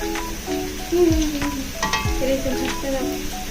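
Curry sizzles and spatters in a hot wok, a loud crackling fry with scraping stirs and sharp pops from the pan, close up and continuous.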